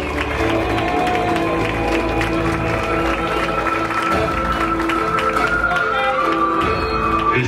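Crowd applause and cheering at a baptism party, continuous and loud for several seconds, mixed with music tones and a busy room.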